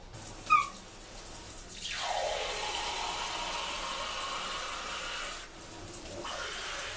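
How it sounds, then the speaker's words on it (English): Tap water runs into a glass jar in a steady, close rushing stream for several seconds, starting after a brief clink and cutting off abruptly near the end. "So I'm just filling this with tap water."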